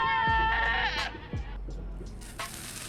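A goat bleat plays as a stream alert sound effect during Euro Truck Simulator 2 play, with a loud, close, quavering cry followed by a couple of shorter bleats and thumps.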